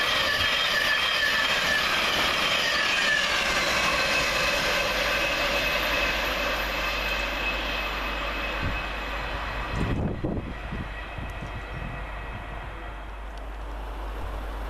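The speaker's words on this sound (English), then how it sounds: "in the opposite direction for Govia Thameslink is 9 Sierra 26 with 700-115, going from Brighton to Cambridge" A Govia Thameslink Class 700 train running from Brighton to Cambridge passes through Welham Green station with a loud, steady roar and whine that stops abruptly near the end, leaving a quieter hum.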